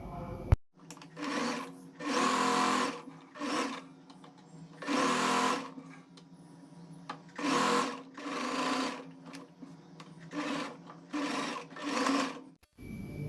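A sewing machine stitches the crotch seam of an Afghani pant in repeated bursts, several runs of steady mechanical whirring, each lasting a second or so, separated by quiet pauses, close by and clear.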